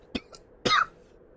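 Two coughs close by, a short one followed by a longer, rougher throaty cough, then quiet.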